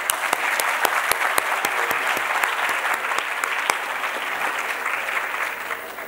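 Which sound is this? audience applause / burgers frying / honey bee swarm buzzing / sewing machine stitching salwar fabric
audience applause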